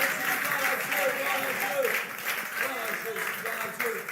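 A church congregation applauds and cheers in acclaim, a dense sustained wash of clapping with raised voices mixed in, loud and filling the room throughout.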